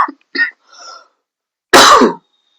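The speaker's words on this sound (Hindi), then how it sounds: "खांसी भी आ जाता है कभी कभी" A single harsh cough bursts out after a few faint throat sounds, close and brief, followed by silence.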